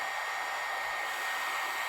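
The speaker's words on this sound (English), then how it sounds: "Here's our first item, hair dryer." Close and loud, a running hair dryer gives off an even rushing roar of air with a thin motor whine that holds steady from start to finish, with no speech.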